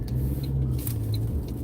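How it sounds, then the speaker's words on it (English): A car engine idling louder than normal, a steady low droning rumble with slight wavering, close and continuous, with no talking. "This car was just making a weird noise. Like the engine was louder than it normally is"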